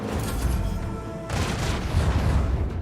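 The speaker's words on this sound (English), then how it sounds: "We're going to use the 5 torpedoes. Lock on and launch." Torpedoes launch in a Warhammer space combat game, making a dense, booming, rumbling burst of fire that surges again partway through and stays loud to the end, with no voices.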